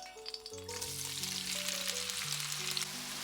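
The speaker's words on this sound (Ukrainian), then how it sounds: "Десь вода попала, шкварчить." Oil crackles and sizzles steadily in a frying pan, spitting where a little water got in, with quiet background tones underneath; close and moderately loud, no talking.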